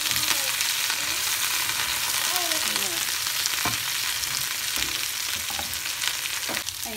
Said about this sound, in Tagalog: Ipiprito din natin ang mushroom,